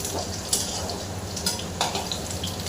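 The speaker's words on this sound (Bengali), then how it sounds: "আলুগুলো সব ভেজে নেব।" Potatoes frying in a pan of oil for a hilsa fish curry, giving a steady close sizzle with occasional scraping and clinks of a spatula against the pan.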